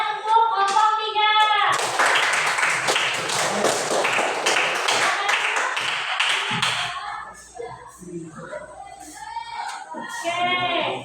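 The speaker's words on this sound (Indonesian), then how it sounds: "tepuk tangan untuk kelompok 3" A class applauds group 3 with a burst of close, brisk clapping from many hands lasting about five seconds. Talking comes before and after it.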